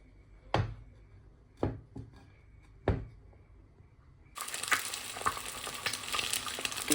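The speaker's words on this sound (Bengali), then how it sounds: "এবার তেল দিব, তেল দিয়ে একটা ডিম ভাজবো।" An egg fries in hot oil, preceded by a few sharp, separate knocks. A loud, steady crackling sizzle then starts abruptly and carries on to the end.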